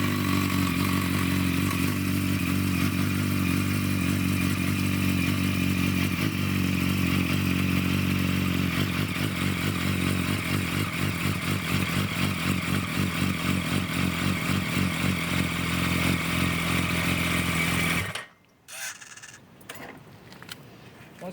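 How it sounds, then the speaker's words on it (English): 2008 Yamaha YZF R1 motorcycle engine running after an oil change, a loud, steady idle throb that holds for about eighteen seconds before cutting off abruptly, followed by faint clatter. "fire up the bike"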